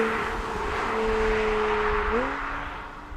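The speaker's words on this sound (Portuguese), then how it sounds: "O motor tem um som bom, mas precisava de mais volume." An Alpine A110 sports car engine holds a steady drone at moderate volume, then its pitch steps up briefly near the end, heard from inside over road noise.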